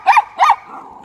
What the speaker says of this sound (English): And that was my dog again.